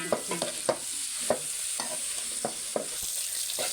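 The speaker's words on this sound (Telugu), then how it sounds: "పచ్చిమిర్చి ఇలా వేగితే సరిపోద్దండి" Green chilies fry in oil in a pan while being stirred, with a soft, steady sizzle broken by repeated sharp scraping knocks of the spoon at an uneven rhythm.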